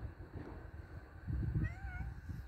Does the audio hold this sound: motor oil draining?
no